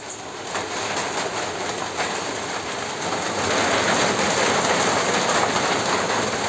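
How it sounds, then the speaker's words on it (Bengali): Rain falls in a dense, steady hiss that grows slightly louder in the second half, with no voices. "এই যে বৃষ্টি পড়তেছে"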